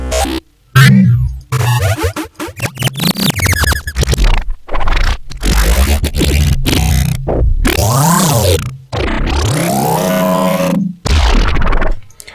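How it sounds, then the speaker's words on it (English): Warped, glitchy processed sounds from granular stretching, pitch shifting, retriggering and reversing, with swooping pitch bends, stuttering retriggers and reversed swells, loud and continuous with brief gaps. "a stretch thing with grain, pitch, shifting, retriggering, syncing, reversing kind of stuff"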